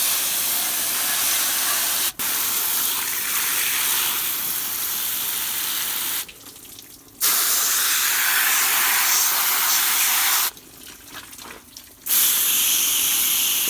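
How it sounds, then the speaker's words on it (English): A steady hiss of water spraying through the metal fins of a window or wall air conditioner, loud and close, broken by two short pauses where the spray stops before resuming. "I'm just putting light water through there."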